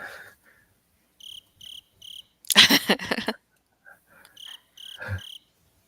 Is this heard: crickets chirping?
yes